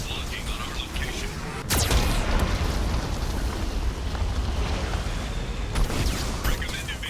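Geth cannon fire in the Mass Effect 2 video game, a sudden heavy blast followed by a long rumbling roar and a second burst near the end, loud and close with dense low-frequency rumble.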